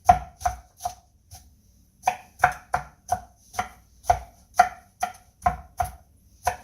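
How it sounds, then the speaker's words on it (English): A knife rough-chops through food on a wooden cutting board in sharp, evenly spaced thunks, close and crisp, pausing briefly before a steady run of strokes resumes. "Now, I just need a rough chop on these."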